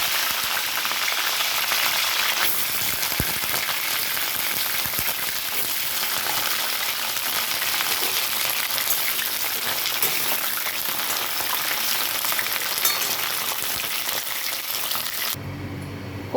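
Cauliflower florets hiss and crackle as they fry in hot oil in a kadai, a loud, close, continuous sizzle that holds steady before cutting off near the end.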